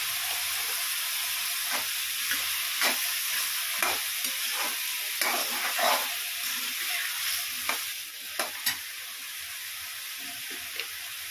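Vegetables and spice paste for vegetable pulao fry in a pan with a steady broadband sizzle, broken by repeated scraping stirs and clinks of a spoon against the pan throughout.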